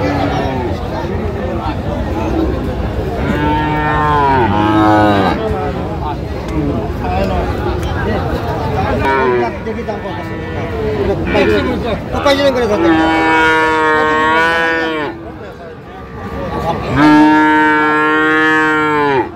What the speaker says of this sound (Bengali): ফ্রিজিয়ামের ষাঁড় আমরা দেখছিলাম এখানে।